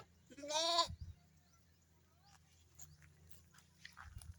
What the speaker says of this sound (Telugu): మా గొర్రె పిల్లలు ఎలా ఆడుకుంటున్నాయో